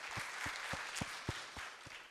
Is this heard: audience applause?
yes